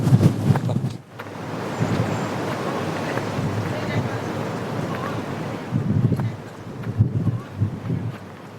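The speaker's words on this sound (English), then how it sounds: "It's very, very windy." Strong wind on top of Arthur's Seat in Edinburgh roars and buffets the microphone in loud gusts, easing briefly then surging again.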